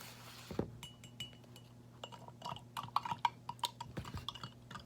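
A metal spoon lightly clinks and taps against a glass or ceramic coffee cup in a quiet room. Faint, irregular ticks come in small clusters.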